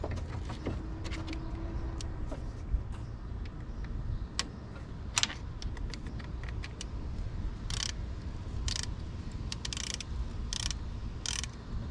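Work on a Geo Storm's cooling system while adding antifreeze brings a run of ratcheting clicks and metallic ticks as a part is tightened, close and fairly quiet, in bursts over a low background rumble.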